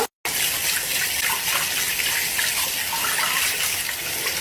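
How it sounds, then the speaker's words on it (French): Hot tap water gushes loudly and continuously from a faucet while a soapy sponge is rinsed, after a split-second gap at the start. "Et de l'eau chaude."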